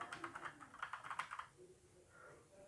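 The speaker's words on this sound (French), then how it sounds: "C'est le Skill Corp K20, le tout dernier clavier Skill mécanique entier." Quick bursts of keystrokes on a Skill Corp K20 mechanical keyboard, about a dozen close clicky presses in fast rhythm, then a pause with faint background noise.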